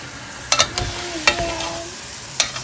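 Skin-on chicken marinated in yogurt is stirred in a cooking pan, with a steady low sizzle under several scraping spoon strokes against the pan, close and fairly loud.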